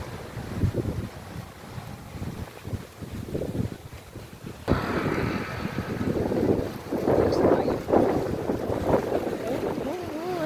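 Strong typhoon wind in Bohol, Philippines, rumbles and thumps against the microphone throughout, growing rougher halfway, with indistinct voices underneath.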